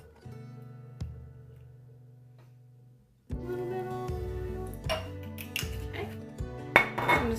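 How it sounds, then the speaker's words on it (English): A body balm mixture with olive oil stirred in a hot jar: quiet spoon scrapes and ringing clinks against the container, sparse at first, then busier clinking in the second half. "I'm just gonna stir this up really well."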